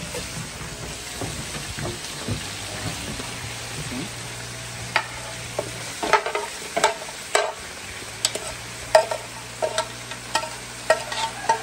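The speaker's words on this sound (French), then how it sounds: "Mélanger." Food being stirred in a cooking pot, with scraping and clunking strokes of a utensil against the pot at an irregular pace over a steady low hum and faint sizzling, close and fairly loud.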